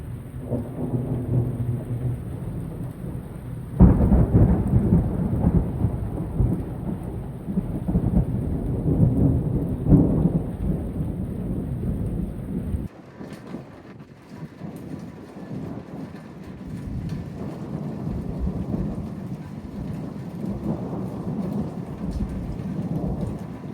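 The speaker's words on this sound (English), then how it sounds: "it was a pretty intense storm" Intense thunderstorm with heavy rain steadily pounding surfaces, punctuated by rumbling thunder, including a loud crack partway through, then continuing downpour. Loud, close, continuous and without voices.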